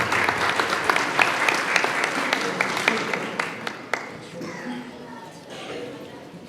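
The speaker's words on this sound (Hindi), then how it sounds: "आपकी भरपूर तालियां।" An audience at a thanksgiving first Holy Mass applauds as a priest is invited up. Sharp individual claps ring out over a broad clapping wash that gradually thins and fades, with some voices murmuring underneath.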